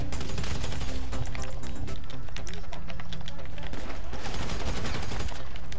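Rapid bursts of automatic gunfire in Grand Theft Auto V ring out continuously, dense and loud, with a voice speaking over parts of the shooting.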